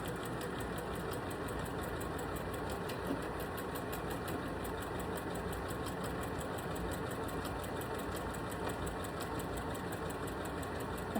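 Sewing machine stitching a cross-hatch quilting pattern, a steady fast mechanical whir with a rapid even ticking pulse running unbroken throughout, moderately close and with no voices.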